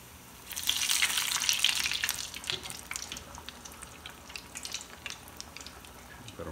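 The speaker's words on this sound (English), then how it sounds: "let them fry for a few minutes" Fish fillets frying in hot oil for Southern-style fried fish, a bright hissing sizzle that swells briefly, then settles into irregular crackles and spits, close by.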